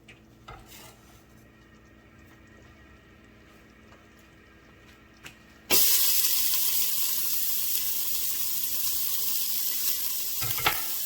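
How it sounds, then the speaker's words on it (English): Chopped onions dropped into hot oil for a Southern pot roast with seasoned rice, bursting into a loud, steady sizzle after quiet kitchen clatter, the hiss holding strong and close to the end. "we're gonna drop them onions over in there."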